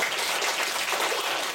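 An audience at an outdoor street science show breaks into applause, a short, dense burst of many hands clapping at moderate volume with no voices over it.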